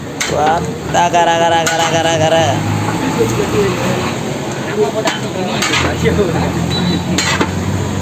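A large pot of dum biryani being stirred by hand, with metallic scrapes and clatter over a steady background rush, while a voice talks over it throughout.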